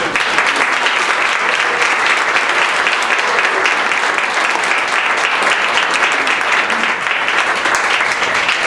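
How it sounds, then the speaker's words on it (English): A theatre audience gives a dense, sustained round of applause welcoming the cast of a group interpretation stage performance of The Purple Rose of Cairo, steady and loud throughout with no talk. "with a round of applause, please welcome our cast of the performance."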